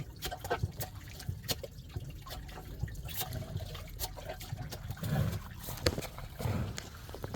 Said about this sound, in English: the water is going down through the hose into their trough